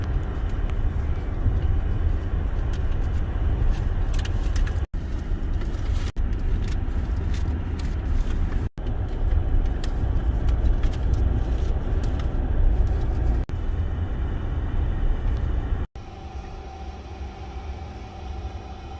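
A Tesla car driving on a road through the Ocklawaha Prairie Restoration Area, giving steady low road and wind rumble from inside the cabin, with a few brief dropouts and a quieter stretch near the end.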